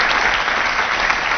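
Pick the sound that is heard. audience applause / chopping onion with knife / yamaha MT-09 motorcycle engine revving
audience applause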